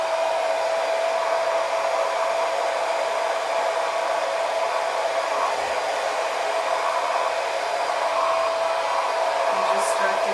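A blow dryer on a medium setting with a diffuser attachment runs steadily and loudly without pause, a constant whooshing hum with a faint tonal whine.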